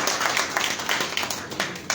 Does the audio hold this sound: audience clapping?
yes